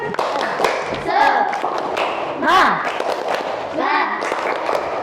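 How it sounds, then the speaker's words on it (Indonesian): A class of primary school children claps and chants the 'tepuk semangat' routine in short bursts, shouted syllables mixed with thumping claps, close and lively, with a teacher's voice between rounds. "Kita ice breaking dulu ya. Semuanya. Tepuk semangat."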